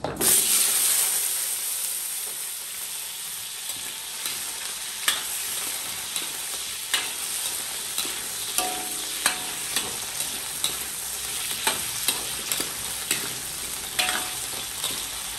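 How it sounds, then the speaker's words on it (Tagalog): Steady oil sizzle and crackle from potatoes and carrots frying in oil, with occasional clinks and stirring taps in the pan, close and continuous. "Prito muna natin itong patatas at saka carrots."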